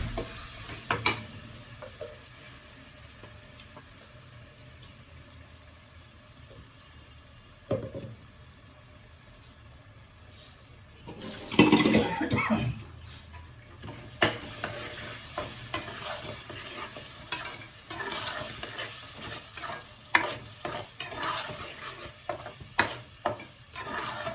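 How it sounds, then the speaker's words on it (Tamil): Ingredients sautéing on a low flame for palak paneer, a quiet steady sizzle with intermittent spatula scrapes and clinks against the pan, growing busier with a burst of vigorous stirring midway, close and without talk. "ஃப்ளேமை சின்னதாக வச்சுட்டு இதை வதக்கிக்கலாம்."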